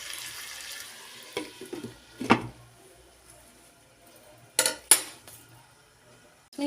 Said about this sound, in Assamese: এতিয়া মই ঢাক মাৰি মাংসখিনি সিজিবলৈ দিম।